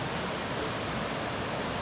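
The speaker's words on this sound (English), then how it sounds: "I don't know if you can see all the waterfalls back there," Steady broadband rush of several waterfalls cascading down along a forest trail, heard from a landing over the water; a continuous, even roar with no voices.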